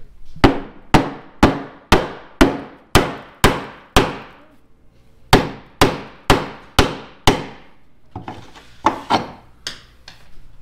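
A ball peen hammer strikes a stuck metal sleeve in sharp, ringing blows, a fast run of about nine evenly spaced hits, a short pause, then more hits and softer clanks, close and loud, no talking.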